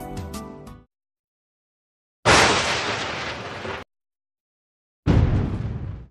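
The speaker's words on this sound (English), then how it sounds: "Thunder and lightning." Thunder at the onset of monsoon over farmland being readied for banana planting: loud broadband rumbling cracks in two long bursts separated by silence, with a shorter crackling burst at the start.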